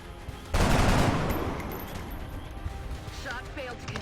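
A loud burst of gunfire in the turn-based strategy game XCOM on Impossible Ironman difficulty, with a sharp crackling volley that rings out and slowly decays, followed by quieter game sounds.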